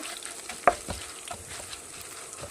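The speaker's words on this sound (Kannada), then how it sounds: "ಮೆಂತೆ, ಜೀರಿಗೆ, ಸಾಸಿವೆ ಹಾಕ್ಕೊಂಡು ಸ್ವಲ್ಪ ಫ್ರೈ ಮಾಡ್ಕೊತಾ ಇದ್ದೀನಿ." Fenugreek, cumin and mustard seeds frying in a pan for a crab curry, a faint low crackling sizzle with a sharp pop and scattered small spits, close by and without talk.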